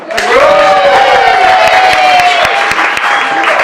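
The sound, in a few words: round of applause at a wedding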